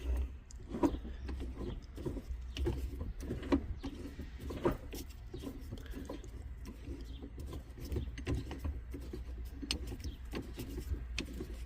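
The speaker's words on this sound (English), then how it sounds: "you will have to start spinning it counterclockwise to release that spare tire" The spare tire winch under a Dodge Grand Caravan is cranked counterclockwise, making steady ratcheting clicks and small metallic ticks that repeat close up against a low background hum.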